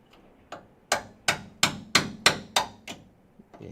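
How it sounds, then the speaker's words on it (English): A chisel is driven with a ball peen hammer into the rocker panel of a Dodge Charger. About nine sharp metallic strikes come in a steady rhythm, loud and close, then taper off to a few lighter taps with no talking. "Let me get my new chisel and my new ball peen."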